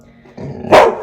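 A single dog gives a short, sharp bark close by, preceded by faint low background noise, heard alone without talk.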